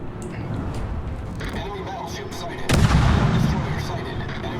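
Warship guns fire in World of Warships naval combat, a heavy boom landing near the middle and rumbling on over a dense bed of game noise.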